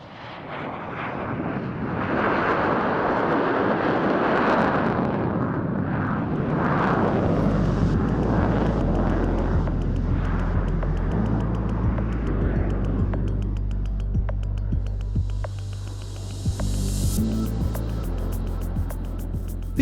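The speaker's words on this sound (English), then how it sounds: "One F-15QA displayed in a clean configuration, while a second one flew laden with 12 dummy AIM-120 AMRAAM advanced medium-range" Loud, roaring jet engine rumble from a Qatari F-15QA fighter during a flying display at the RIAT air show, building into a heavy low-pitched roar that stays strong and close as the jet passes.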